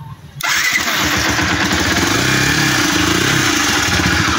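A G150 motorcycle engine cranks and catches after a brief silence, then settles into a loud, steady idle that runs to the end.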